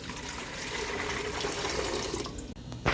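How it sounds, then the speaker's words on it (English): Water poured into a mini ice maker's reservoir, a close, continuous splashing trickle that cuts off briefly near the end. "Add water before you power it up."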